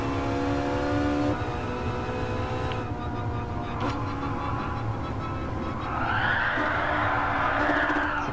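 A 900 hp Ferrari 458 engine accelerates in fourth gear. It gives a loud, steady rising howl with strong harmonics, and a brighter surge of rising tone builds near the end.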